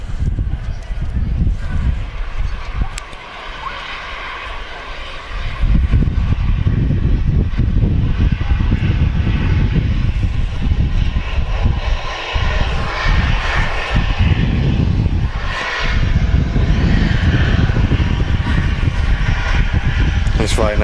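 A Ryanair airliner in from Katowice vacates the runway at Manchester Airport, its jet engines giving a loud, continuous roar that swells after a few seconds and holds steady, with voices faintly underneath.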